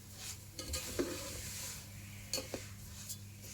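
Handmade vermicelli roasts in a pan with a quiet, low sizzle, broken by several soft scrapes and taps of a spoon stirring against the metal.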